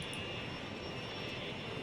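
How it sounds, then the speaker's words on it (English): A passenger airplane in the Cities: Skylines city-building game flies in with a steady, broad jet roar held at an even level, a constant engine whine layered over it, and no talking. "There's another plane coming in."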